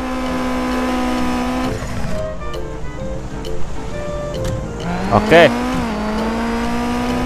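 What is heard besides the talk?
car engine in an Android racing video game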